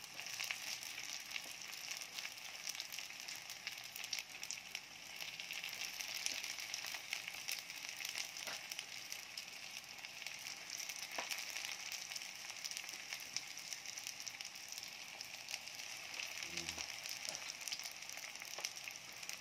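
Fish lumpia shanghai spring rolls frying in oil in a pan, giving a steady, even sizzle and crackle that holds throughout with scattered small pops, with no talking.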